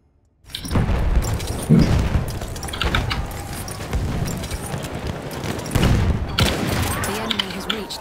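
A Battlefield 1 battle erupts into booming explosions and rattling gunfire, heavy blasts and volleys crowding the whole stretch with a few sharp peaks, loud and close.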